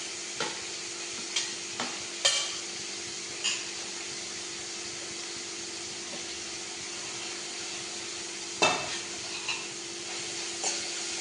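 Finely chopped medium onions sautéing in a pan for a lunch curry, a steady soft sizzle running throughout with occasional light clicks of a spoon stirring against the pan.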